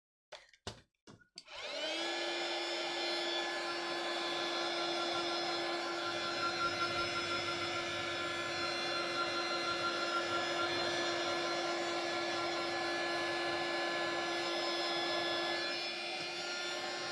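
A hair dryer blasts steadily at close range to dry watercolor splatters in an art journal, a few brief knocks coming just before it switches on and then a loud, unbroken whir holding for the rest of the time.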